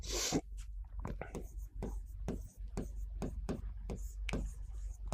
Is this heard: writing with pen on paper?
yes